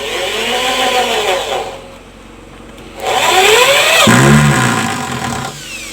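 A power drill drives screws into an old car tyre, whining loudly in two long runs that rise and fall in pitch, with a short lull between them.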